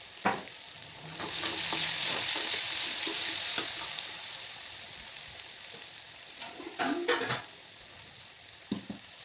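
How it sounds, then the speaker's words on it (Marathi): Onion sautés with ginger garlic paste in a pan, a constant close sizzle that swells for a few seconds as the mixture is stirred, with a couple of spatula scrapes and taps near the end and no speech. "आपला कांदा परतून होत आलेला आहे। त्यामध्ये मी आलं लसूण पेस्ट घातलेली आहे।"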